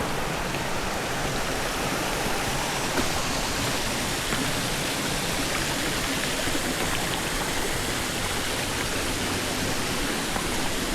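Water pours and rushes steadily at a waterfall on a stream in Cuyahoga Valley National Park, running slightly higher than normal, a dense continuous broadband roar that stays close and even throughout with no voices.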